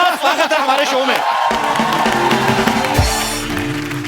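A studio audience on The Kapil Sharma Show erupts in cheers, whoops and clapping to welcome Aishwarya Rai, a loud sustained crowd roar that follows a host's voice.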